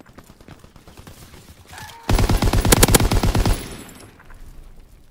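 Gunfire in Call of Duty WW2 gameplay: a loud burst of rapid automatic shots lasting about a second and a half, then fading into softer background battle noise, with no clear explosion boom.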